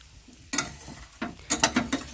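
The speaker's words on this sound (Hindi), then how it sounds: "मीडियम से हाई फ्लेम पर अच्छी तरह से इसे भून लेंगे।" A spice mixture for burger tikki being fried over medium to high flame: irregular bursts of sizzling with scraping and clinking of a spatula stirring in the pan, loud and close, separated by brief quieter gaps.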